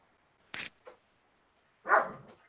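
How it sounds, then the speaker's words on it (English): A dog barks twice, a short sharp yap and then a louder, fuller bark, heard faintly against quiet surroundings. "There goes the dog."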